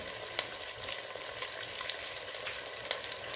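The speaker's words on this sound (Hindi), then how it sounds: "इसको हल्का सा मैं फ्राई करूँगी, जब देखें ना चिकन वाइट वाइट हो गई है" Large chicken pieces fry in a pan with a steady, faint sizzle and an occasional soft pop or stir, and no talking.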